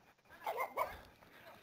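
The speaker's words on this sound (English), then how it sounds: "It's a little pug barking at me" A small pug gives a few quick, faint yaps and whimpers close together, short and soft against quiet background.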